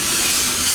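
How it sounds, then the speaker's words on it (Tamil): A loud, continuous broadband hiss of steam escapes from a coal-fired steam engine, close and steady throughout with no voices. "இது நீராவி இங்கே வருது"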